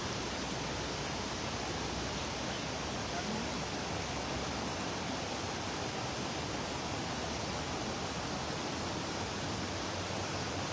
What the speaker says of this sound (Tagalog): Malakas yung current ng tubig talaga.